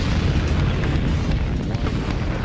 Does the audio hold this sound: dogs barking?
no